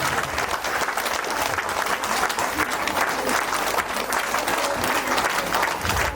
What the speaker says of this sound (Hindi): जोरदार ताली से इनका स्वागत करें, जोरदार ताली।